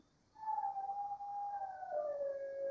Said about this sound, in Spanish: y empecé a oír a los perros aullar